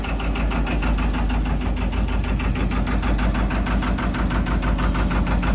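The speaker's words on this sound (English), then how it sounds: "it's quite noisy at the moment because the engine is exposed" A narrowboat engine running exposed with its cover off, a loud, steady mechanical drone with a fast regular knocking pulse, close by and constant throughout, with no talk over it.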